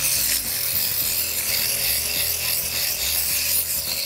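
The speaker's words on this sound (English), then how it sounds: "We will clean them with sandpaper." Sandpaper rubs back and forth across the wooden surface of a handmade model sailboat, a close, loud, continuous scratchy rasp with a steady stroking rhythm and no talk.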